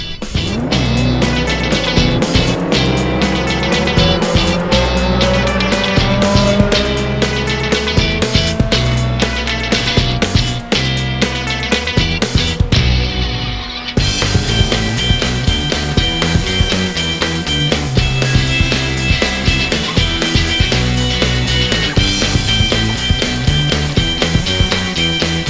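Two Roblox Jailbreak cars, the Air Tail and the Beam Hybrid, race each other with loud, steady engine roar and rising revs, a brief cut partway through, then the same dense racing drone continuing.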